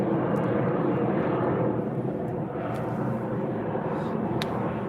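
An airplane passes overhead as a broad, steady roar that holds at even loudness for several seconds with no talk.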